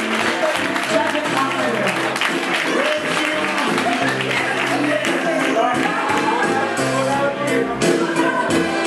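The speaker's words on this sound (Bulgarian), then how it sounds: "Аплодисменти!" Wedding guests applaud and clap continuously and loudly, with people talking and calling out over the clapping.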